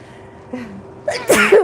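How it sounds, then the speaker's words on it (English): A single loud sneeze bursts out close by, preceded by a couple of short, quiet breaths building up to it. "I'm gonna have to sneeze"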